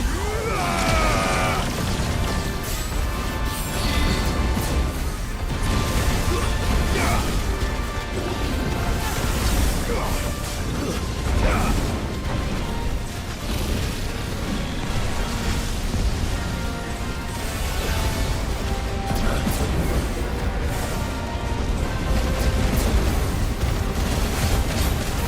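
Delayed explosions in the video game Final Fantasy XVI boom and crash steadily through a dense, loud mix of game effects and music, with no clear pause in the noise.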